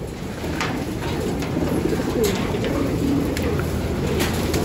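Low, rolling coos from racing pigeons in training murmur continuously over a busy background, with a few faint chirps and clicks scattered through.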